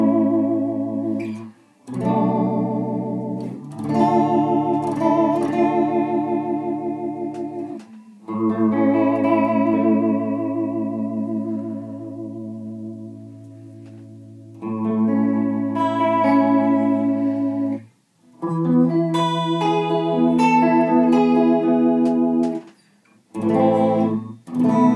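A guitar plays through a chorus/delay pedal set to a C6-style chorus sound, producing lush, wavering sustained chords in several phrases separated by short pauses.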